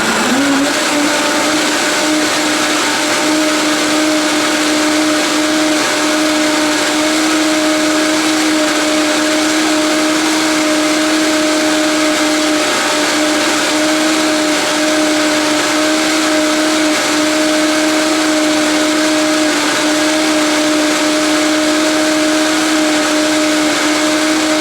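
A blender runs loud and steady throughout, blending nuts and water, its motor whining at a constant pitch with a harsh grinding roar, no voices.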